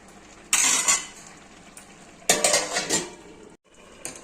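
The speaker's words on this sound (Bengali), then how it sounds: "এই যে ঢাকনাটা তুলছি" A metal pot lid clatters as it is lifted off a pot of simmering pumpkin greens, with a couple of clinking, scraping bursts of kitchenware against the background of a quiet kitchen.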